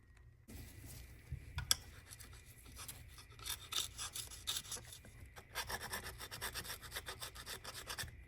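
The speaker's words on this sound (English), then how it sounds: "Now we'll start scraping and cleaning." A hand scraper rasps old gasket material off a 1985 Chevy Caprice engine in repeated short, gritty strokes, close and fairly quiet, speeding into a quicker rhythm toward the end.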